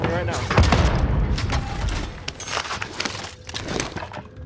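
A grenade blast mixed with rapid gunfire in a multiplayer shooter video game, loud and dense throughout, with teammates' voices calling out over the steady barrage of shots.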